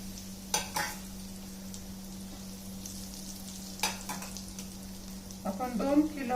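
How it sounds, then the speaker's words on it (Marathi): Hot oil poured over spices for a sour-sweet raw mango pickle gives a faint, soft sizzle under a low steady hum, with a few scattered clinks and a slightly louder stir near the end. "सर्व मसाले छान तळून निघतात."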